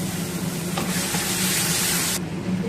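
Tomato paste hits frying onion paste in a pan, the steady sizzle swelling into a louder, brighter hiss for about a second and a half before settling back, with stirring underneath.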